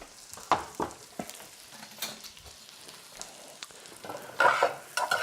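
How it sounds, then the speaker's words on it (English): Onions softening as they fry in a pan, a low sizzle with scattered utensil scrapes and taps, growing louder and hissier toward the end, with no talking. "So basically, I'm softening the onions as we speak."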